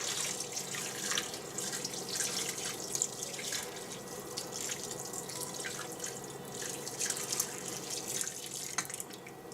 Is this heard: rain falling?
no